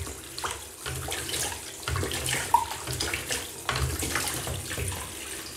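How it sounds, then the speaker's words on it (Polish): Tap water runs steadily while black-and-white film is rinsed after developing, a close splashing flow that rises and dips in uneven surges with no voices. "Teraz już mogę całkowicie otworzyć korek. I płukać"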